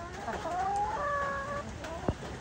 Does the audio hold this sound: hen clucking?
yes